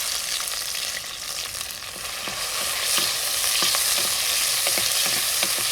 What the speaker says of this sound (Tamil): தக்காளியை நம்ம வதக்கிக்க போகிறோம்